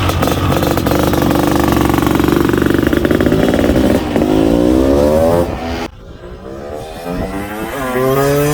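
A Kawasaki KX 500 AF two-stroke motocross bike with electric start runs loudly up close, holding a raw steady idle then revving up and down in rising and falling sweeps, with a brief dip in between.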